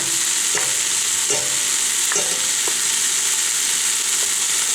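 Cubed turkey frying in a pot for chili makes a steady, loud hiss, with a few faint clinks over the sizzle and no voices.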